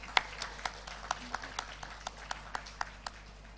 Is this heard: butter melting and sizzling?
no